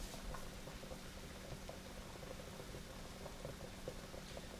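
Water at a rolling boil, used for rust bluing Colt gun parts, gives a faint, steady bubbling hiss with small pops scattered through it. No voices are heard.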